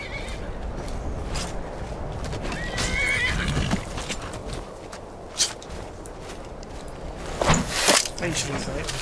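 A video game horse neighs and whinnies amid clip-clopping hooves and busy ambient noise, with a louder whinny near the end.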